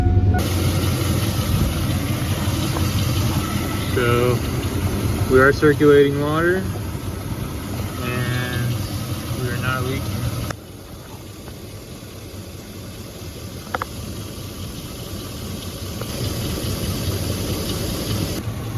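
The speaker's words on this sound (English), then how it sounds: "Alright, we're gonna start the truck." A Chevy truck engine idles steadily at close range with a low, even rumble, running under talk for the first half and continuing alone afterward.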